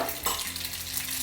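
Mustard seeds frying in hot sunflower oil, a dense continuous sizzle with faint popping crackle, close and steady over about a second.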